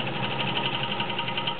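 A vintage Kenmore 1203 heavy duty sewing machine stitching two layers of chiffon, giving a steady, close, evenly pulsing motor hum and needle whir without pause or talk.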